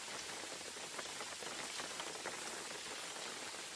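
Steady video game rain patters on a surface, an even hiss of many small drops with no voices.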